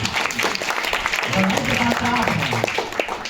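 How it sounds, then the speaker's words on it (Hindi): Audience applause at a Hindi poetry gathering honoring a poet, steady dense clapping through the whole stretch with a voice speaking over it. "आप लोग जोरदार तालियां सबको बजाइए"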